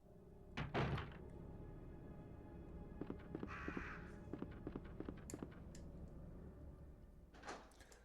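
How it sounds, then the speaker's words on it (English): Crows cawing in the Resident Evil 2 (1998) PlayStation game, a few harsh caws spread through the clip alongside in-game thuds and knocks, heard alone with no talk. "Ignore the crows."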